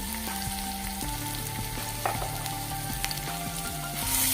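Crushed ginger and garlic fry in a pan for a boiled egg dish, giving a steady, close sizzle with a few light clicks of stirring and no talking.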